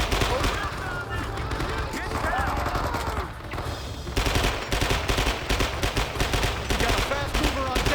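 Sustained gunfire and machine-gun bursts in the Vietnam War video game Men of Valor, dense and loud throughout with booming impacts, a brief lull near the middle, then renewed rapid firing.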